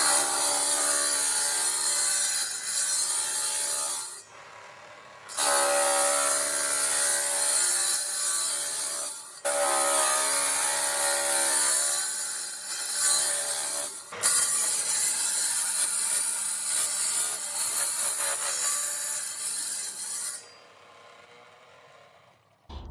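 A porcelain paving slab is cut for a patio, a loud, close, rasping grind in several long passes separated by brief pauses, before the cutting winds down.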